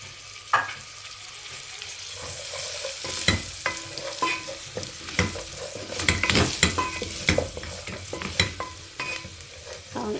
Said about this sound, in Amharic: ነጭ ሽንኩርት ድንብላሉን በዘይት አድርጌ እየጠበስኩት ማለት ነው።